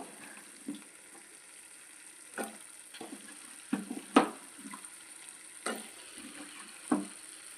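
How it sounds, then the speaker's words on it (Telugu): Potato pieces and field bean seeds frying in oil for a field bean curry, with a soft, steady sizzle broken by occasional scraping stir strokes, close by and without talk. "ఆలు ముక్కలు అనప విత్తనాలు వేసుకుందామండి వేసుకొని బాగా కలిపెట్టుకుందామండి"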